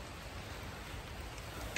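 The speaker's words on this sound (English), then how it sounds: "It's only a light drizzle." Light drizzle in Wales falls as a steady, soft hiss of rain, even and unbroken, with no voices.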